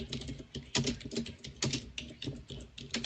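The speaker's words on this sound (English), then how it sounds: "Who is banging on their keyboard like a gorilla at a zoo?" Fast, heavy typing on a computer keyboard, keys clattering loudly in an irregular stream of hard strikes with no voices.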